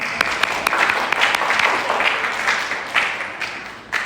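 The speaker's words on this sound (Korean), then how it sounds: "용빈이가 박수." Brief burst of applause and clapping from a church congregation during a Sunday sermon, steady and moderately loud with scattered sharper claps throughout.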